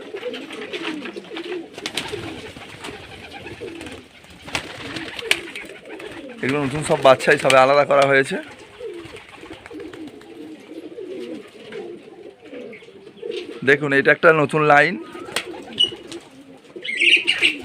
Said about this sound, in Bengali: দেখুন পায়রাগুলো খাওয়ার জন্য কেমন করছে